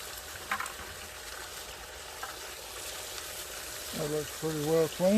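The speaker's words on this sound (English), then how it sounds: "Just gonna clean the bucket out and just pour it in the cube." Water sloshing and pouring from a bucket into a Gold Cube sluice outdoors, a soft continuous wash with a few splashes, and a voice talking over it near the end.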